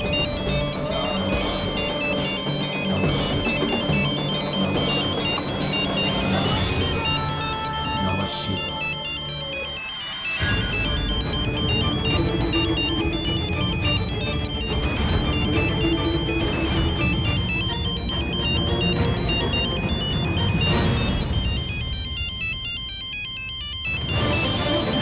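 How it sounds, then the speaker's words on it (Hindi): A mobile phone ringtone plays a repeating electronic melody, loud and close, for the whole stretch with barely a pause, with no talk over it. "ये तो रूपा जी का फोन है"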